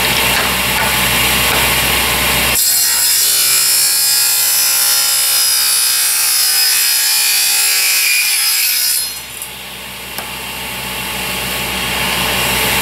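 Handsaw cutting wood for a 45-degree mitred joint on a box: loud, steady rasping strokes run continuously for about six seconds, then stop abruptly, leaving a quieter, duller background.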